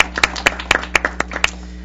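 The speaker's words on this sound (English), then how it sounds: "it would be appropriate, actually, for the committee to give itself a round of applause" A committee giving itself a round of applause at a December 2010 advisory meeting: sparse, distinct hand claps from a small group, sharp and fairly close, with no talking over them.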